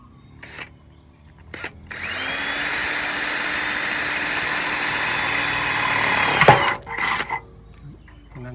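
A power drill runs steadily for several seconds with a high whine, then bites through and stops, preceded and followed by short bursts of tool noise, during car air conditioner repair.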